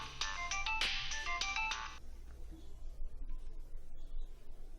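A telephone ringtone plays in a quick melodic burst for about two seconds in a quiet room, then stops, leaving faint background noise.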